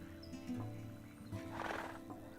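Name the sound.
horse neighing in Ashes of Creation video game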